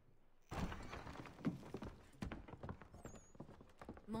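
A horse's hooves in the video game Assassin's Creed 3 clop in a short irregular run of soft thuds after a quiet start, moderately close, with faint game ambience underneath and no talking.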